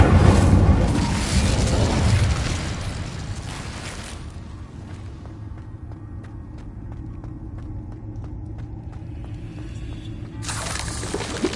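An Incendio fire spell cast in the video game Hogwarts Legacy: a loud fiery whoosh and rumbling burst for about four seconds, fading into quieter mechanical ticking and creaks before another sharp surge at the end.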